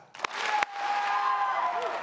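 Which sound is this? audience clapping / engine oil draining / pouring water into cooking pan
audience clapping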